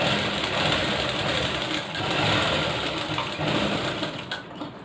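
A sewing machine stitches blouse fabric in a continuous loud whirring run for several seconds, with only slight dips in speed before trailing off near the end.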